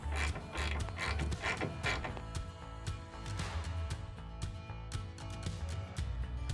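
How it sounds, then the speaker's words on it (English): Two screws are driven in to secure a 2008-2020 Ford F150 taillight housing from inside the truck bed, a continuous close clicking, ratcheting whir with a busy mechanical texture and no talk. "we can go back inside the bed here and install these 2 screws to make sure it's secured"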